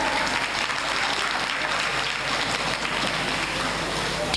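An audience at a yoga school's Rabindra Nazrul Jayanti celebration applauds loudly and continuously, a dense, even wash of clapping from many hands.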